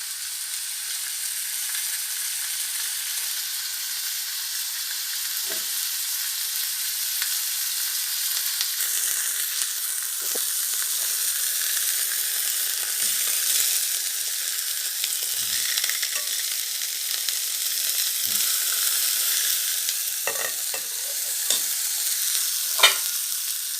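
Steaks frying in a pan, a steady bright sizzle throughout with occasional soft scrapes and pops, close and alone without talk.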